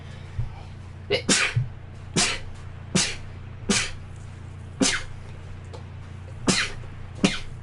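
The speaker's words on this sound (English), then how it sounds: "I gotta sneeze." A series of sharp, breathy bursts in a video game, about seven or eight spaced over several seconds over a low steady hum, like repeated sneezes or coughs nearby.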